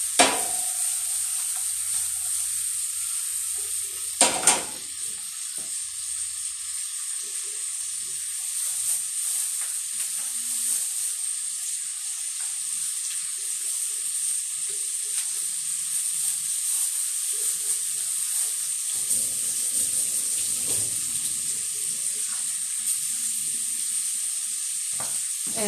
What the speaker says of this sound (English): So we raise the heat on the pork chops, and we are just cooking away the